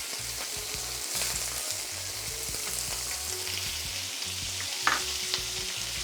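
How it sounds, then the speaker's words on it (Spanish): Scallops, prawns and clams fry in very hot oil in a pan, a dense steady sizzle with soft stirring scrapes and one brief sharper crackle, no voices. "aquí vamos a dorar nuestros mariscos"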